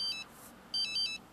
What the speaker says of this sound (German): mein Handy klingelt